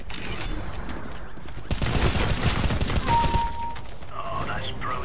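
Rapid automatic gunfire in Counter-Strike: Global Offensive crackles loudly in a dense burst lasting about two seconds, framed by quieter in-game ambience before and after.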